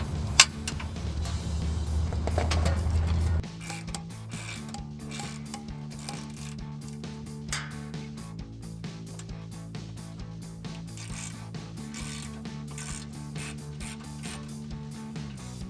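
A ratchet unbolts fasteners on a Jeep Wrangler JK rear bumper, producing a long run of rapid, close, rhythmic clicking that follows a louder rushing noise in the first few seconds.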